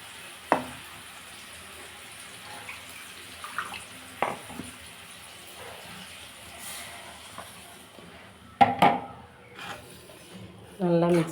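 Ground masala paste hits a hot pan for potato palkari, giving a faint, steady sizzle with a few soft clatters and scrapes and a louder burst near the end.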